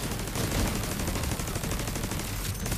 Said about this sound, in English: This turret is shredding them.